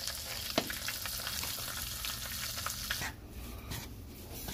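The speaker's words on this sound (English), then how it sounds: "Mix your ogbono until it is well combined." Ground ogbono seeds being toasted and stirred into oil and pepper in a pot, sizzling steadily with scraping strokes of the spoon, quieting somewhat toward the end.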